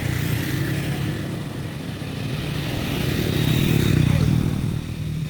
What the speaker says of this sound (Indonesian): inilah mesin yang kita rakit kemarin sudah berfungsi kembali